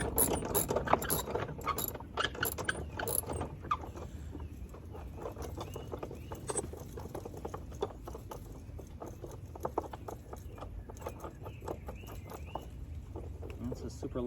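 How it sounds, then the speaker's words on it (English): Socket wrench with a 19 mm socket loosening a bolt on a Hayward pool cartridge filter, giving a continuous rapid ratcheting clicking, with people talking over it. "We're just gonna take our socket wrench and open it right"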